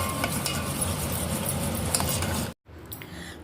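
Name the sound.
stirring curd into buttermilk curry with a spoon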